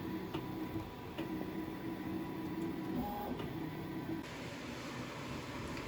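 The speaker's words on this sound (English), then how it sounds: "here's a quick time-lapse video of the 3D printer making one of the walls" A 3D printer builds a wall piece, its motors giving a steady mechanical whir with faint periodic ticks and small pitch shifts, close and continuous with no talk.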